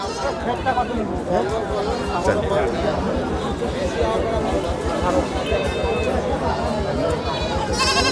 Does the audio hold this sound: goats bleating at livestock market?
yes